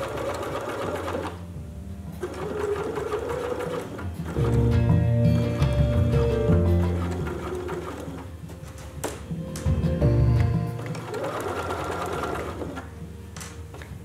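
A domestic sewing machine stitches an invisible zipper into fabric, its motor running in steady bursts of rapid mechanical whirring that rise louder around the middle and again later, with brief pauses between runs.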